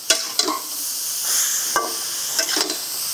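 Grated carrot stirred steadily in hot ghee for halwa, with a constant bright sizzle and hiss under intermittent spoon scrapes, close and loud, no talking.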